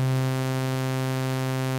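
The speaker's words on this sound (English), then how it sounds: "I will now morph this waveform from being a sine wave to being a sawtooth waveform" A synthesizer holds a steady sustained note while its waveform is morphed from a smooth sine toward a bright, buzzy sawtooth, the pitch unchanged and the tone loud and constant throughout.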